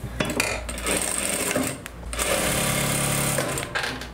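Sewing machine stitches a narrow hem folded over twice, running in loud, fast bursts with a short pause midway and at the end, close by and without speech.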